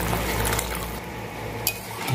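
Milk is poured into a bottle gourd curry cooking in a pot, making a steady close liquid pour and bubbling that eases off partway through, with a faint clink near the end.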